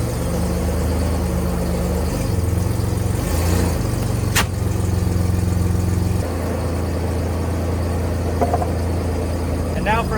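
A car engine idles and hums steadily as the car creeps slowly up onto a bead breaker to unseat a mini bike rear tire. The pitch shifts a little partway through, with faint background noise.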